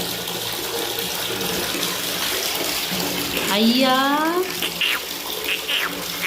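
Tap water runs steadily into a bath while a child is washed, a near, continuous splashing flow; a voice briefly calls out partway through.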